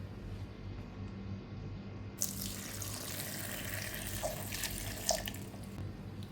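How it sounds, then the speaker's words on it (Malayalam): Water is poured into a green mango mixture, a soft steady splashing that starts after a quiet moment and runs to the end, fairly faint. "ഇതിലേക്ക് നമുക്ക് കുറച്ച് വെള്ളം ഒഴിച്ച് കൊടുത്ത് ഇത് നന്നായിട്ട് അരച്ചിങ്ങെടുക്കാം"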